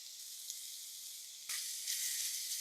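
Ginger-garlic paste, green chili, shallots and curry leaves with a little salt sizzle steadily in hot oil for a Thiruvananthapuram-style fish curry, the hiss jumping louder midway and staying bright and close to the end.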